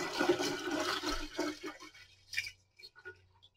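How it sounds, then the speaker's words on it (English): Water pours steadily into a jar for making water kefir with a gurgling rush, then tapers off into a few faint drips and splashes. "I'm going to fill this all with the water"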